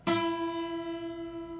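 A single piano note is struck once, sounding clear and bright, then rings out smoothly and slowly fades with a steady tone.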